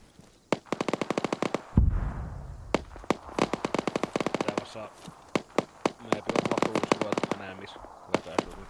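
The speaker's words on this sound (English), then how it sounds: "The mortars were hitting them really good." Mortar shells and gunfire in a military video game: sharp repeated bursts of rapid shots and a heavier boom, loud and close, with people talking over the firing.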